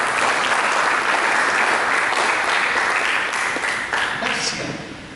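A church congregation applauds for Jesus in a thick, sustained burst of clapping that stays loud and then tapers slightly toward the end.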